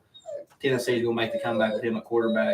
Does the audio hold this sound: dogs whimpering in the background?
yes